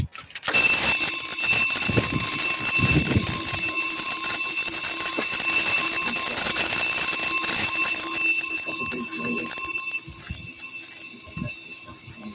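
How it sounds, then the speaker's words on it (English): A fire alarm rings continuously and loudly, a steady high-pitched electronic tone sustained for the whole stretch with faint background noise beneath it and no talking. "I'm to keep holding the fire alarm"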